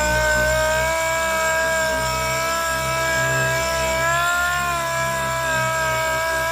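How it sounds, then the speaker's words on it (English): A power sander wet sanding a car panel runs continuously with a steady, droning motor whine that holds an even pitch throughout, with no talking. "You don't want too much speed on your sander."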